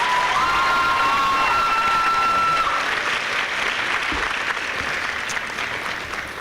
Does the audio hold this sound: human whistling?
no